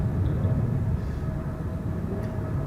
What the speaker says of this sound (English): we are going to see a KLM Embraer 175 take off first